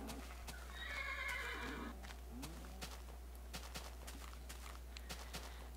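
A Minecraft horse whinnies loudly near the start, followed by a steady series of hoof clip-clops over a low constant hum.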